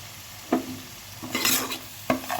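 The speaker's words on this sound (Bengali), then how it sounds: "এই টমেটো পেস্টটা অ্যাড করে দেবো" Tomato paste goes into spices frying in a pan for a tomato paneer dish, a low steady sizzle broken by three distinct stirring knocks and a brief louder hiss in the middle.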